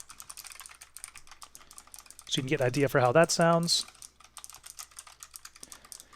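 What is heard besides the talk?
typing on a computer keyboard, recorded through a ModMic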